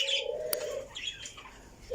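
A weak pet budgerigar gives a few short, close chirps and tonal calls, with a brief click or flutter between them over a quiet room.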